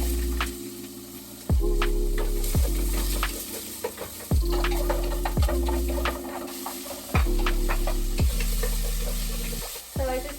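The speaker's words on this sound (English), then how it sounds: "go ahead and take the tomato and the onion and start sauteing them in the pot" Tomatoes and onions sautéing in a pot for sinigang sizzle loudly up close, with repeated scraping stirs that arrive in regular strokes roughly every second and a half, each surge of frying rising and fading, and no voices.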